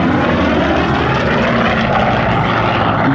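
A large propeller-driven fighter, originally designed for aircraft carriers and used to retake the Pacific, roars loudly and steadily overhead at an airshow at Melun-Villaroche, its piston engine producing a dense, continuous drone.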